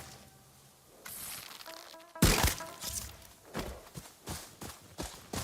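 An object gets shot down from a tree in the video game Ghost of Yotei: a sharp thwack followed by a string of hollow thunks and knocks as it drops and tumbles, moderately loud, with no talking.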